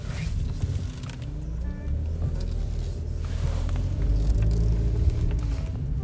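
A car engine idles in the background with a low, steady rumble that swells slightly over several seconds, faint tonal hum layered underneath.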